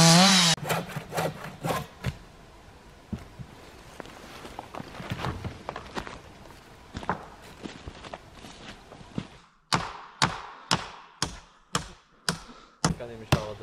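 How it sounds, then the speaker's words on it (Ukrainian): Wooden boards being cut by hand during building work on a river island, with a run of rough sawing strokes and knocks, then a steady series of about nine sharp, evenly spaced strokes close by. "То ріжемо ці посинці, а потім відріжемо їх."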